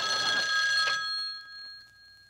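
An old landline telephone bell rings, a bright metallic ring that fades into a long ringing decay, close and clear with no talking.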